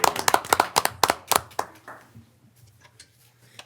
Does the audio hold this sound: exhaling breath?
no